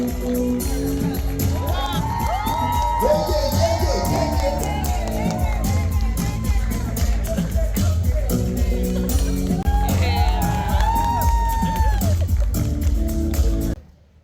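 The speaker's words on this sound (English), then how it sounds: "Please welcome, with a scream and maybe even a stand, Ajebo!" A live audience at a creators' showcase celebrating African culture cheers, screams and whoops continuously as a guest is welcomed on stage, a loud dense crowd roar lasting the whole stretch before cutting off at the end.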